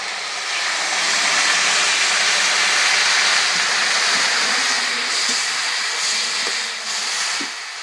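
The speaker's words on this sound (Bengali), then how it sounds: "যতক্ষণে সজনে ডাঁটা সেদ্ধ হচ্ছে" Moringa drumsticks boil in a pot of water, giving a steady, broad rushing hiss of bubbling and steam that stays even and fairly loud from start to finish with no voices.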